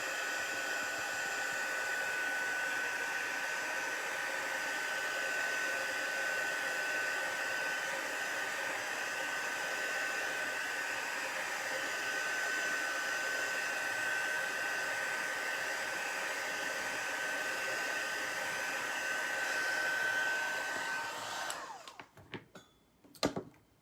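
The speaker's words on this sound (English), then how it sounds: "I'm going to take my little dryer here," Small handheld craft dryer blowing steadily and close for about twenty seconds, a constant airy whir that cuts off near the end, leaving a few faint handling clicks.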